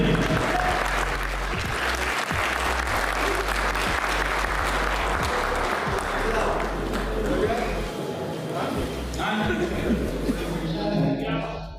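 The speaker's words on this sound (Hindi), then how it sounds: "जोरदार तालियां बजनी चाहिए।" Audience at an all-India poetry gathering in a town hall applauds loudly and steadily for about ten seconds, a dense sustained roar of clapping that softens slightly near the end.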